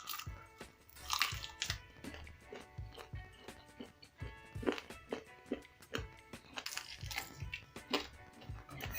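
Crunchy fried chicken feet being bitten and chewed close up, with repeated sharp crunches and cracks in an irregular rhythm, loud and near, with no one talking.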